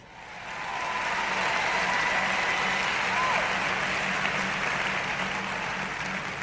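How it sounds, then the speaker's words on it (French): A church congregation at a French-language sermon applauds steadily, a dense, sustained wash of clapping that swells within the first second and holds loud to the end. "Allez, applaudissez Dave."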